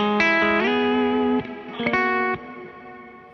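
Meris Mercury X reverb pedal on a sustained, chorused tone, with dark, ghostly reverb tails swelling behind each chord change and rising pitch sweep, loud and alone.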